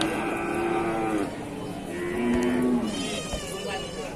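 A cow moos several times, long tonal calls with a steady pitch, fairly close and loud, with faint background noise between calls.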